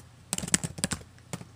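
A short burst of Macintosh computer keyboard keys clicking, several quick presses in a row, then a pause and one or two more taps, close by.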